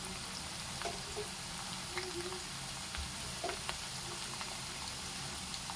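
Potato chips frying in hot oil and being turned with a slotted spoon: a steady, quiet sizzling hiss with a few light taps and bubbling pops.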